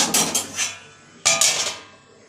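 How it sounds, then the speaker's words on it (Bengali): A metal lid set down on a cooking pot of river fish curry, two clattering impacts about a second apart, each ringing briefly and fading, close by with no talk. "তার আগে আমি ঢাকা দিয়ে দিই।"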